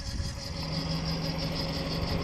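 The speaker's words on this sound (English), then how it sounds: "driving my 2005 Toyota Echo with a squeaky accessory belt, as you can hear" A 2005 Toyota Echo engine drones steadily from inside the car during a night drive, with a continuous high-pitched squeal from the accessory belt running over the rumble.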